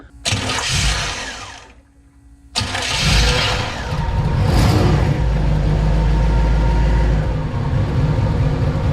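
A 1991 Chevrolet Camaro engine cranks for under two seconds, falls briefly quiet, then cranks again and catches, settling into a loud, steady running idle close by.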